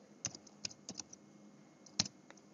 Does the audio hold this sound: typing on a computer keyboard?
yes